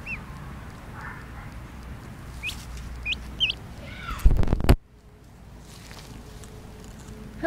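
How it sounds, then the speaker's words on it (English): A yellow pet duck that is turning white, with an orange bill, gives several short, close honking calls over a steady outdoor background, followed by a brief loud burst and then quiet. "Hello, I am a duck."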